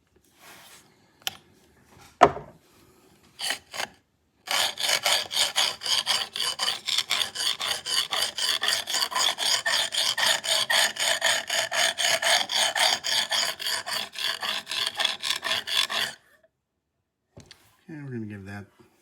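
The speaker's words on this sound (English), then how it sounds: "we're using a heavier grit stone" A custom hunting knife is sharpened on a heavy grit stone, with a long run of rapid, rhythmic rasping strokes close up, preceded by a few scattered scrapes and a brief voice at the end.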